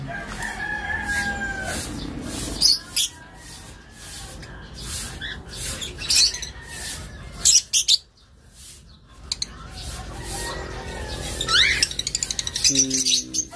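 Pet birds call and chirp close by in a noisy room, bright repeated calls and clucking bursts scattered over a continuous background hum, with brief louder chatter near the end.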